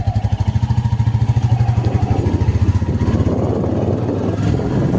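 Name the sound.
motorcycle engine idling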